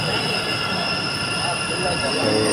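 A metro train pulls into a station with a steady loud rumble and high whining, squealing tones from the wheels and motors, continuous for a few seconds.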